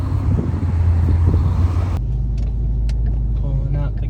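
A Ford Mustang fitted with Flowmaster Super 10 mufflers pulls out of a gas station, its deep, steady exhaust rumble loud and close throughout, with the engine note dropping to a lower idle-like drone partway through.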